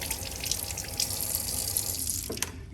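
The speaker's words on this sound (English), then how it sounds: "Rinse off my paintbrush." A paintbrush is rinsed under running water in a sink, with a steady splashing rush close by that ends with a few brief knocks.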